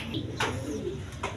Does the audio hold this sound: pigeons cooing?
yes